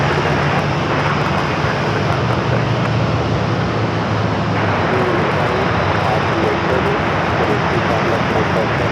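A Boeing 737-700 jet arriving at Phoenix Sky Harbor Airport, a loud, steady engine roar with broad rushing noise that holds unbroken throughout.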